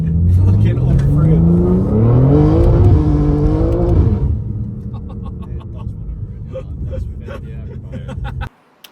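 A tuned 700HP+ BMW G87 M2 accelerates hard from inside the cabin, its engine note climbing through rising gear pulls in a loud roar before easing off, with people talking over it.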